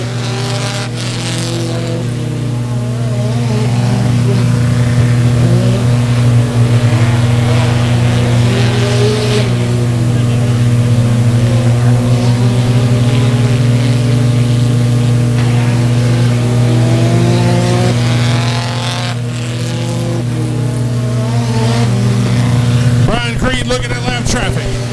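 Race cars roar around the dirt track at Buffalo Creek Speedway, a loud, sustained engine drone with shifting pitch as cars pass through the turns, under continuous excited announcer commentary.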